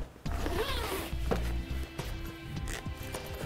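Zippers are pulled open on a Lets Go Aero expandable cargo bag, giving close, scratchy rasping runs broken by a few fabric knocks and handling thumps.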